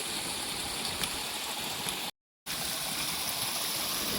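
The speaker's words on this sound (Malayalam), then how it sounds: "തൊട്ട് താഴെ കേട്ടോ പുഴ ഒഴുകുന്നത്." A river flows just below a property at Anakulam in Mankulam, giving an even, rushing wash of water that holds steady, broken only by a short moment of complete silence.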